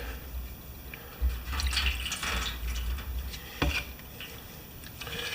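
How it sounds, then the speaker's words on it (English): Water is poured into the engine of an old Yard Machines lawn mower, making faint splashing and dripping with a few louder gurgles against a quiet background. "Let's just pour water in there. It goes through."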